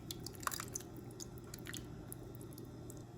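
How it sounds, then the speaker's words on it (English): Remaining sauce is poured over chicken and onions in a crockpot, making soft wet squishing and dripping sounds that are close and quiet over a low background hum. "Now I'm just going to pour the remaining sauce over the chicken."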